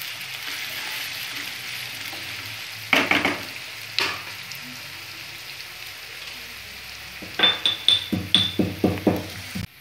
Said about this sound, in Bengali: পেঁয়াজগুলো ডিপ ফ্রাই হয়ে ব্রাউন হয়ে যাবে